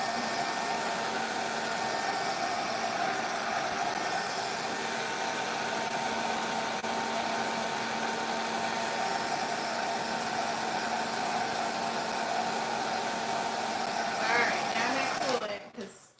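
Steady whirring roar of a heat dryer blowing over acrylic paint with its cooling button on, constant and close, with a voice talking over it before it cuts off at the end.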